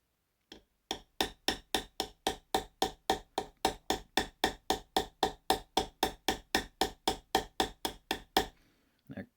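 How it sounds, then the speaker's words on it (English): A hammer's rounded peen strikes a metal pivot pin in a steady run of about thirty sharp, evenly spaced, close blows, with no talking over them. "I'm actually going to use the rounded part of this hammer now."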